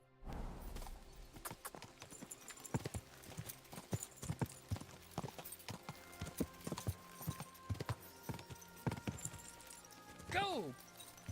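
A horse gallops in the video game Kingdom Come Deliverance 2, its hooves clip-clopping in a quick, uneven rhythm with a short whinny near the end.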